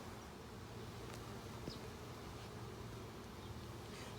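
A continuous drone of honey bees buzzing around an open hive during an inspection, a dense steady hum with a few individual bees zipping close past the listener, no talk.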